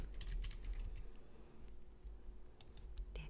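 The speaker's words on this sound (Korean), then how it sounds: "텍스트는 평균이라고 입력합니다" Soft, rapid keystrokes on a computer keyboard as a short word is entered in a spreadsheet program, a faint cluster of clicks at the start and another near the end over low room noise.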